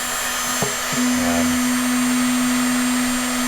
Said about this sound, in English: that's my blower on its lowest of 2 settings